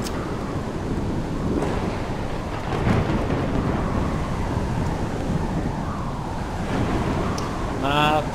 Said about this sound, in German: So ein Gewittersturm ist echt nervig.